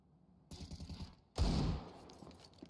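Desert Eagle gunfire during a Counter-Strike match: a burst of clipped shots opens, then a single loud, heavy report rings out and fades over a fraction of a second, with no voices over it.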